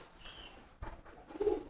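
Racing pigeons cooing in a loft, soft low murmuring coos with a couple of louder throaty bursts near the end, fairly close and otherwise quiet.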